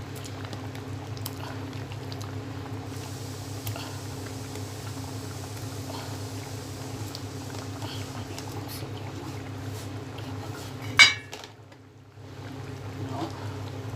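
Fish pieces going into simmering fish gravy in a pan on an Indian stove: a steady bubbling boil throughout, with one short splash-like burst near the end before the simmer resumes.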